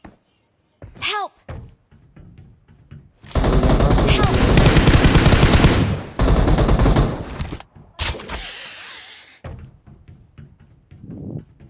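Sustained automatic gunfire rattles loudly in the PUBG Mobile shooter game, one long burst followed by a shorter one and single shots, with someone talking in between and a brief shout.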